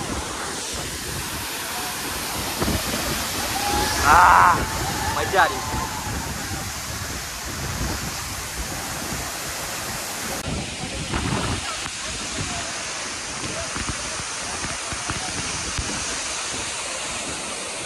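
A steady, full roar of water pours down at a waterfall where people stand getting soaked, the wash constant throughout with a brief voice speaking over it near the start.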